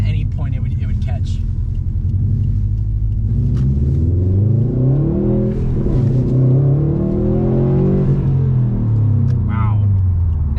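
A Subaru STI accelerating with its exhaust note, a loud continuous rumble heard from inside the car, engine pitch climbing and falling through the revs while people talk over it.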